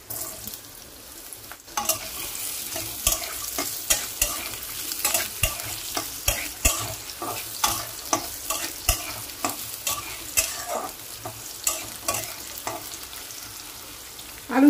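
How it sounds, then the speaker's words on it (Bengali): Thin potato slices fry in oil in a pan while a spatula stirs them, with a continuous sizzle broken by many sharp scraping and clinking strokes at a steady, uneven rhythm. "আলুটা আমি দিয়ে দিচ্ছি ভাজার জন্য।"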